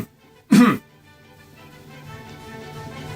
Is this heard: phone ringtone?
no